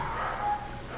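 A dog barks in the background of a math lesson at home, a short muffled woof heard indistinctly behind a steady room tone.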